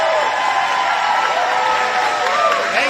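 A large crowd applauding and cheering at a political rally, dense continuous clapping with whoops and shouts rising above it, with voices calling out through the noise.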